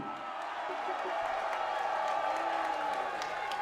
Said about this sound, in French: Un tonnerre d'applaudissements pour faire un beau combat.